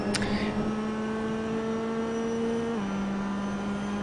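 Mazda MX-5 race cars at Road America give off a steady engine drone with a sustained tone that drops in pitch partway through, heard at a distance without a close pass-by.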